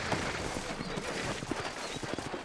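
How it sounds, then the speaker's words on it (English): Horse hooves clip-clop in a steady rhythm across a Red Dead Redemption frontier town, close and fairly loud over a dense layer of ambient game sound. "You ain't gonna find sturdier horses than these in all of New Albany."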